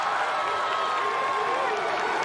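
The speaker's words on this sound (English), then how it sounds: "The crowd's got the rule chants going." A large arena crowd at the American Ninja Warrior Minneapolis finals keeps up a steady, loud, unbroken roar of massed voices with no pauses.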